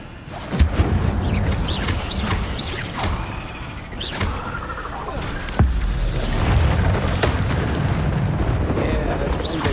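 Fire spells cast in the Hogwarts Legacy video game, sharp booming bursts and crackling blasts over a busy battle soundscape, with a voice speaking between the impacts.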